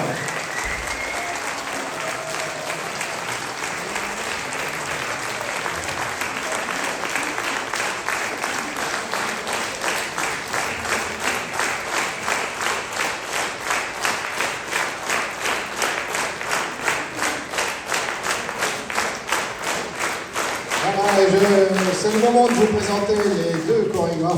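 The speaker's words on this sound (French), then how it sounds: "je vous demande d'applaudir encore bien fort" Sustained audience applause after a concert of Ukrainian carols by a song theatre troupe in Golbey, France: dense steady clapping for a long stretch, swelling louder near the end with voices joining in.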